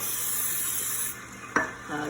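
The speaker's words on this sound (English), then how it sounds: "I am going to get the pans ready with a spray called Baker's Joy" Baker's Joy baking spray hisses steadily from an aerosol can onto cake pans, close and continuous, ending with a short clink of a pan.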